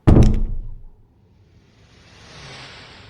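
A house door closes with a loud thunk at the start, used as a horror podcast sound effect, followed by a quiet, hissing tail of room tone.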